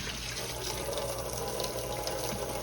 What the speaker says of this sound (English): I'm gonna fill this up till it covers the peas